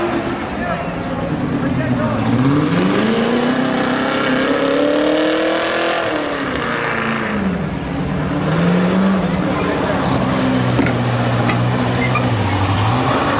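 A rough truck roars through a hairpin turn in an off-road competition, its engine loud and close, revving up and down in long swells with a steady roar throughout.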